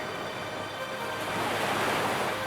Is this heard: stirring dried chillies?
no